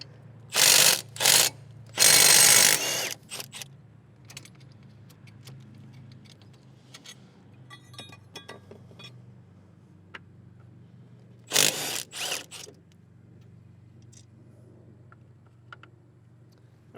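Working the A/C compressor mounting bolts loose on a Subaru Forester brings a few loud bursts of ratchet clicking, then quieter metallic fiddling and tool clinks, with another short ratchet burst near the end.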